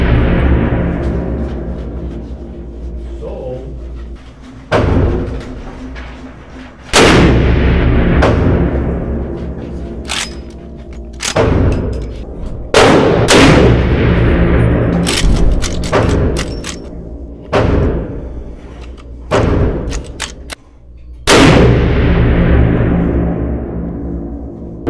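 A Rossi big-bore lever-action rifle with a 20-inch barrel fires .454 Casull, roughly ten loud, sharp booming shots spaced irregularly a few seconds apart, each leaving a ringing decay and the clack of the lever cycling between them.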